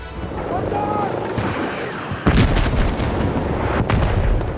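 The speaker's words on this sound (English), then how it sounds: "the unforgettable giant fuel tanks that explode in gobsmackingly beautiful fashion with a little provocation from the business end of your assault rifle" Giant fuel tanks bursting apart under assault rifle fire in the Battlefield 6 video game, a sudden heavy blast cutting in after a rumbling lead-up, followed by loud crackling, roaring debris noise that stays close and dense.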